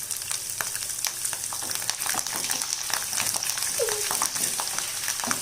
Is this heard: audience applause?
no